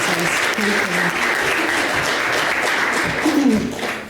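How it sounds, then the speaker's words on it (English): A conference audience at a dementia event applauds carers and dementia services, steady close clapping throughout with a voice heard over it near the end. "giving a little round of applause for our carers and dementia services"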